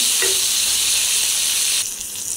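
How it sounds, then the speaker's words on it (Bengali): Pointed gourd fries in hot oil with a loud, dense, steady sizzle that drops slightly near the end. "এটা হচ্ছে পটল ভাজা আর কি ভর্তা করবো"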